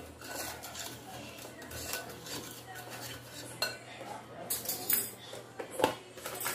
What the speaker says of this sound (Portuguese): Mexer.